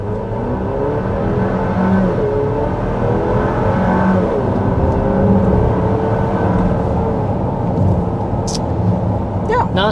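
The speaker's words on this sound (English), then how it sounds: "Let's do another acceleration since no one is behind me" A 2025 Buick Enclave ST accelerates hard on a highway, engine note rising and shifting through an 8-speed automatic over steady road and wind roar, heard from inside the cabin.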